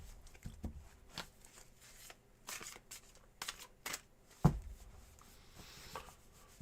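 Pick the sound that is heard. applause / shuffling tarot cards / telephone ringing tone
shuffling tarot cards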